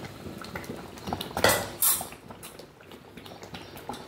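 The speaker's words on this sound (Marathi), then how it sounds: "आता आपण ही डाळ टाकतो. जी आपण दालच्यासाठी शिजवून घेतली ती डाळ टाकली." Cooked dal poured into a pan for veg dalcha, with metal utensils clinking and scraping against the pot and a brief louder splash and clatter partway through, close and alone.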